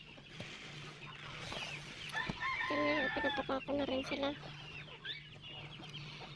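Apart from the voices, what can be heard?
free-range chickens clucking while being fed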